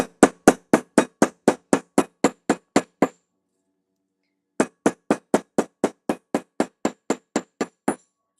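A hammer strikes metal to flatten it, about a dozen sharp, even blows, then a short pause and another run of steady strikes, loud and close.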